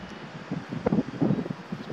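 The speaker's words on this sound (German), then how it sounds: "Der Wind pfeift hier ganz gut rauf durch." Gusty wind buffets the microphone in low rumbling bursts, rising and falling over a couple of seconds, in Swedish wilderness, with no one talking.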